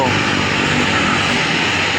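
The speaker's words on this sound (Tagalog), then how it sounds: "Gustong gusto yung eroplano makita ang malapitan." A propeller airplane flying close overhead makes a loud, steady roar that fills the whole moment without letting up.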